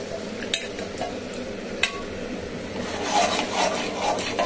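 A spoon scrapes and stirs a cornflour-thickened sauce in a pan for a Chinese-style leftover roti dish. A couple of sharp utensil clinks stand out early, over a soft, steady bubbling, with no speech.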